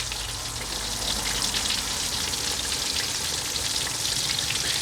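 Seasoned catfish fries in hot oil at about 350 degrees, a loud, steady, dense crackling sizzle that holds evenly from start to finish with no talking.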